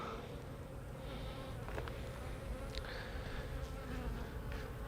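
Honey bees in a hive during a beekeeping inspection give off a steady, dense buzz, continuous and close throughout with no voices.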